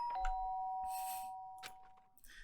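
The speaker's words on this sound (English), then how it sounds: "sharp sound of the doorbell pierced my sleepy haze" A doorbell in Danganronpa: Trigger Happy Havoc chimes a single clear ding, followed by a few soft rustles and scrapes in an otherwise quiet space.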